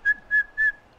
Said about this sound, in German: Jetzt abpfeifen.